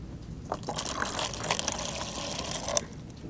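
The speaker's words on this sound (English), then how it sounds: "All right, that is about 1/3 full of water." Water pours steadily into a container for a homemade lava lamp craft, with a continuous splashing, trickling flow lasting about three seconds.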